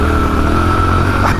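Triumph Scrambler 1200 XE motorcycle at full throttle, its engine droning loud and steady up close with a strong low rumble throughout, no voices over it.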